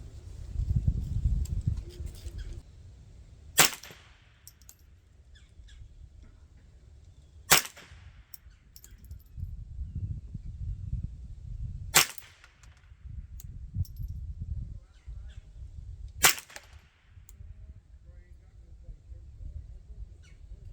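Four sharp rifle shots from a .22 firing CCI Standard ammunition, in a Ruger 10/22 versus Marlin Model 60 comparison, crack out alone at spaced intervals of about four seconds over low background rumble.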